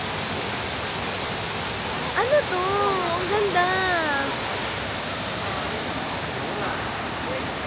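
Constant broadband rush of splashing water from a nearby fountain in Rome fills the scene, with a person speaking briefly over it.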